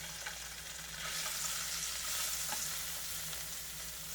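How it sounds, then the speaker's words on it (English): Mushrooms frying in half a stick of butter in a pan give off a steady, close, crackling sizzle that swells slightly midway and continues without pause, with no one talking. "we're going to add in a little half a stick of butter. We're going to throw in these mushrooms."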